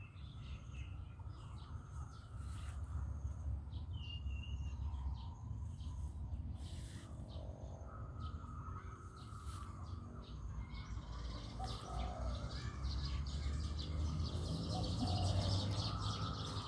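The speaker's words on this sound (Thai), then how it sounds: "เสียงนกร้อง" Birds chirp and call repeatedly in a makrut lime garden over a constant outdoor background hiss, their short bright notes scattered across the whole stretch.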